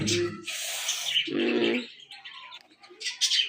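Pigeons in a village yard give soft cooing calls mixed with brighter chirps and tweets, close by and fairly clear, with no talking over them.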